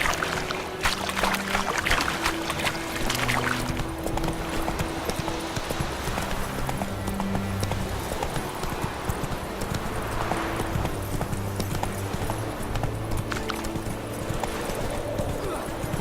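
Horse hooves clip-clopping at a steady trot through The Witcher 3: Wild Hunt, continuous and fairly close, layered over game music and ambient noise, with a voice speaking briefly.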